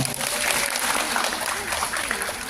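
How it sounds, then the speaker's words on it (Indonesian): Audience applause at an Indonesian motivational talk, a steady wash of clapping hands that fills the short clip, with a voice speaking over it and a faint tune playing along. "Tepuk tangan dong."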